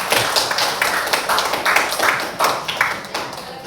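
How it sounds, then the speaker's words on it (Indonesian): A classroom group claps for group 3 after its presentation, a sparse, uneven patter of individual hand claps that comes in small rhythmic bursts, close and fairly loud. "Tepuk tangan untuk kelompok 3."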